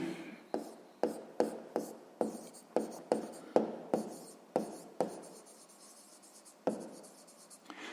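A pen scratches across paper during a sixth-grade maths exercise, a run of quick, close strokes in uneven bursts, then sparse pauses and one final stroke, faint and with no talk.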